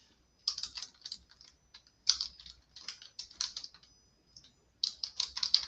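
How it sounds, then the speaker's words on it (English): Bursts of keystrokes on a computer keyboard, typed in uneven clusters with short pauses between them, close and fairly quiet with no voice over them. "Having a hard time typing"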